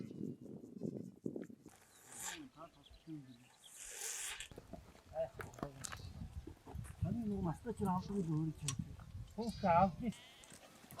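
Sheep and goats bleat in short wavering cries amid a busy outdoor scene, with people talking and rustling nearby.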